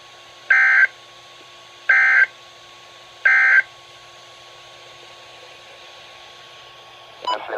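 NOAA Weather Radio station KHB-59 sounding its weekly Emergency Alert System test: three loud, evenly spaced electronic data bursts, each under a second long, followed by silence and then a faint burst of activity at the end.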